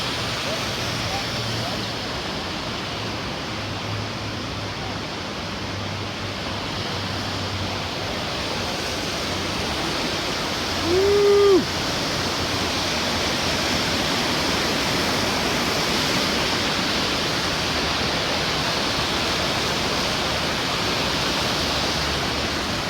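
Rushing creek water on the John Muir Trail in the Sierra wilderness, a steady loud broadband roar of flowing water near a bridge crossing, continuous throughout with a brief higher tone partway.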